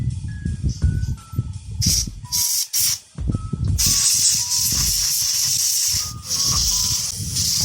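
Short bursts from an air duster's compressed air hiss sharply, then one long steady spray, with a few faint beeps and clicks between them.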